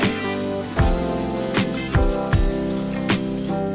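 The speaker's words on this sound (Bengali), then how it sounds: "পেঁয়াজ কুচিটা দিয়ে হালকা ভেজে" Chopped onion frying lightly in oil in a pan on a clay stove, a steady, close sizzle broken by sharp pops and crackles every half second or so.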